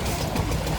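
A very early 1900s stationary engine runs at a tractor show, a steady low rumble with faint knocking, fairly near and without talk.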